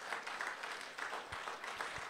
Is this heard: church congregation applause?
yes